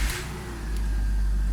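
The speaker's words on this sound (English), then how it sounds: "let's fire this thing up and let it idle for a little while" A car engine turning over and catching, then settling into a steady low idle rumble, close and continuous with no voices.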